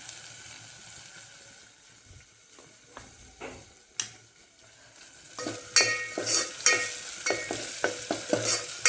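Masala roasting in oil over a low flame for a chicken curry, quiet sizzling broken by scattered spoon scrapes and taps, then louder, busier stirring clatter over the last few seconds.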